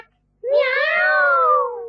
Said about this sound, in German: meine drei schwarzen Kater